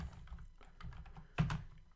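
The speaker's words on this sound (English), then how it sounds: "So we're gonna type in private sub," VBA code is typed on a computer keyboard as quiet, scattered key taps, ending in a slightly louder clack near the end, close up in a quiet room.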